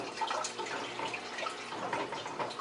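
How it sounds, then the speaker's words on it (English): A Saniblast bottle sanitizer for homebrewing sends a curtain of water cascading into a carboy, making a steady, busy hiss of splashing and dripping water that runs without a break and with no talk. "we can go ahead and turn it on, and as you can see, we've got an entire curtain of water"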